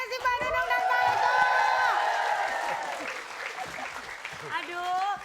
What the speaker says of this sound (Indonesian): tepuk tangan dulu untuk Mas Sesi, Mbak Nunung, dan Pak Eko